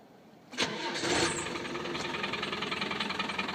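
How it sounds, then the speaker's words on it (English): A 1994 Land Rover Discovery 300tdi diesel engine cranks briefly, then catches and settles into a loud, steady clattering idle with a rough tractor-like knock, close by. "I'll start it up so you can hear the full tractoriness of it."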